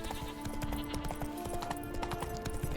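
Roach, the horse in The Witcher 3, gallops with quick, even hoofbeats clopping close by in a steady rhythm over a low humming background.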